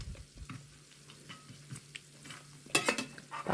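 Garlic frying in hot oil in a pan, a soft steady sizzle with faint stirring clinks and scrapes, growing louder and busier near the end.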